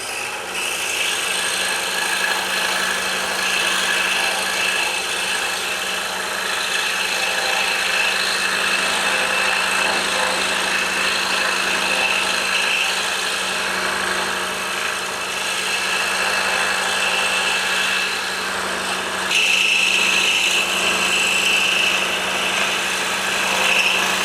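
A scroll saw cuts a wooden hammer shape, giving a steady, continuous high-pitched motor whine with a rapid buzzing blade chatter that runs close and loud throughout, unbroken by speech.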